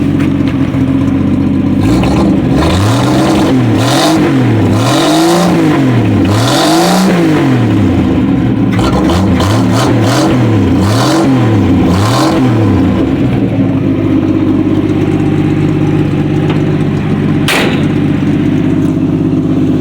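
A 170 CID slant six engine with a homemade, nearly muffler-free open exhaust revs up repeatedly in rising and falling swells, then settles into a loud, rough idle with a brief sharp blip near the end.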